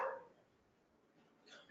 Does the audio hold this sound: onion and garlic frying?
no